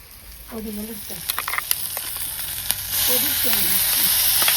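Ginger, garlic and tomato frying in a home kitchen pan, a steady close sizzle and hiss that grows louder partway through, with a few scattered clinks under intermittent talking.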